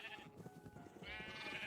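Sheep bleat in a TerraFirmaCraft Minecraft game, a drawn-out bleat followed after a short pause by a second, longer one, moderately loud and close with no talking.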